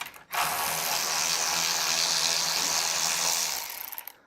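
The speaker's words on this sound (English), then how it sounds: "With our power tools." A power tool whirs steadily for about three seconds while front legs are fastened onto a Kong arcade cabinet, with a ratcheting mechanical grind, close and fairly loud, starting and stopping abruptly.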